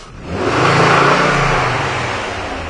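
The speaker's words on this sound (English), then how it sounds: "Give a little throttle here." A car engine being tested for oxygen sensor faults revs up sharply as the throttle opens, holds a loud, close whirring roar, then slowly eases back down.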